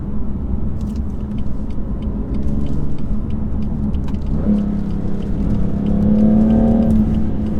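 BMW M3 Competition engine heard from inside while driving, a loud steady rumble that builds into a rising rev toward the end with a whirring tone over it.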